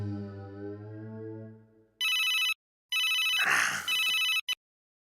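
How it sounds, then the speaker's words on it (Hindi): A telephone rings on an outgoing call in a TV comedy scene: a sustained tonal note fades out, then comes an electronic ringback tone in repeated bursts with short silent gaps, loud and close. "सबसे पहले डॉक्टर हाथी को फोन कर दूं, उन्हें टाइम लगता है।"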